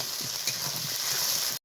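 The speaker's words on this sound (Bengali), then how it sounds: "মশলা দিয়ে একটু আলুটা আর একটু কষিয়ে নেব।" Potatoes fry with ginger-cumin paste in a pan, making a short burst of close sizzling with soft stirring scrapes before it cuts off abruptly.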